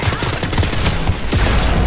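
Shotgun fire in the video game Wolfenstein Youngblood, heard as loud, dense, rapid bursts of gunfire that overlap into a near-continuous barrage with no talking.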